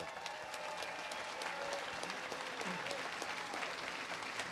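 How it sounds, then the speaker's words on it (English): Audience applause at a millionaire panel talk, steady dense clapping filling the whole stretch at moderate distance, with no voices over it. "give him a round of applause"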